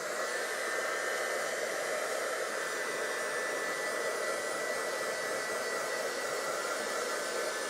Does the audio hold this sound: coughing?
no